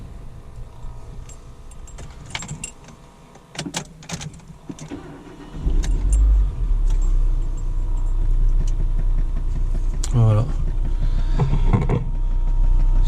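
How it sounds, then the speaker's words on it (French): A Renault Modus 1.6L 16V engine, just fitted with a new timing belt, turns over after some clinking and settles into a steady, close idle hum, with a brief spoken word. "Ça démarre."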